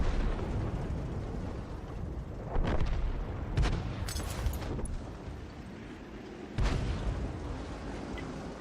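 In a tank video game, an S-51 self-propelled gun fires a shell across the battlefield. Several dull booms and bursts sound over a steady rumbling background, distant and fairly quiet.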